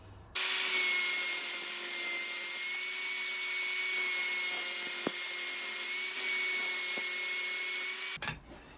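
A scrap of 9mm plywood is ripped lengthwise with a saw, producing a loud, sustained, whining cut that runs for about eight seconds before the blade stops abruptly.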